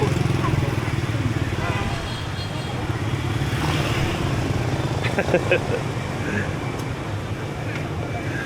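Steady low engine drone of a motorbike on a street in Hanoi's Old Quarter, with faint ambient voices and traffic noise around it.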